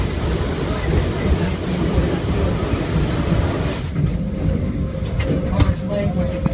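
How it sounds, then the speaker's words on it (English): The Edison, a coal-fired steam locomotive built at the Rouge Locomotive Works in Dearborn, Michigan, pulls a train at Greenfield Village with a steady, rushing rumble and rattle. A voice talks over it and the noise eases slightly near the end. "Locomotive number 1, which is pulling this train, the Edison, was assembled here in Dearborn, Michigan"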